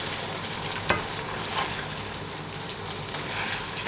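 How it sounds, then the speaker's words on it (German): A thick minced meat and mashed potato casserole is scraped and spooned into a baking dish, giving a steady wet, soft shuffling texture with a few sharper clinks of utensil against the dish, close by and unbroken throughout. "Das füllen wir jetzt mal hier in die Form."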